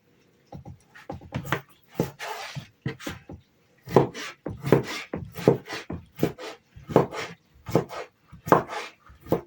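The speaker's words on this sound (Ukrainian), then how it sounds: "намагаємося нарізати приблизно однаковими шматками більші чи менші" A knife chops food into roughly equal pieces on a cutting board, with irregular bursts of quick, close, crisp strokes separated by short pauses and no voices.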